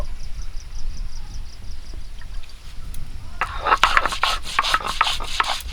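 Ginger and whole cumin seeds being ground into a paste by hand, faint rubbing at first, then a run of louder, close rhythmic grinding strokes toward the end.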